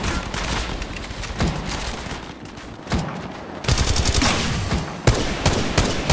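Rapid automatic gunfire in the mobile battle royale game Apex Legends Mobile, with dense bursts and sustained volleys that grow heavier and louder midway, punctuated by sharp single shots and no talking.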